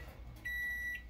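A microwave oven heating roti ends its cycle with a steady high electronic beep lasting about half a second, over a faint low hum in a quiet kitchen.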